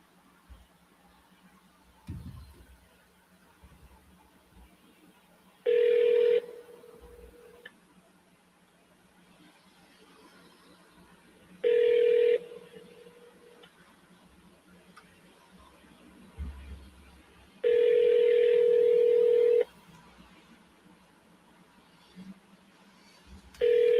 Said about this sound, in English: We're going to double dial this person here.